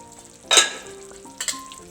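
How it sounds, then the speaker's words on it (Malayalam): Fish keema cooks in a pan on low heat with a quiet bubbling sizzle, with two short louder bursts of frying and stirring noise close by and no talking. "സ്ലിമ്മിൽ കിടന്നിട്ട് ഇങ്ങനെ തിളച്ചുകൊണ്ടിരിക്കും."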